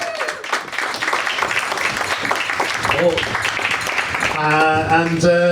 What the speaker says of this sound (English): Give them all a huge round of applause to make their way off the stage.